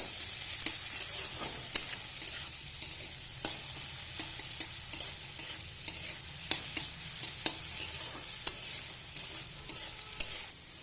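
Carrots and green chillies fry in a pan with a light sizzle while a spoon stirs them, producing a regular series of sharp scraping clicks over the continuous hiss.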